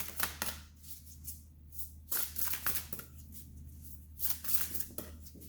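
Tarot cards being shuffled in repeated riffling bursts, close up and moderately quiet, with short pauses between passes.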